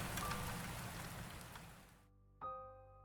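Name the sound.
heavy rain falling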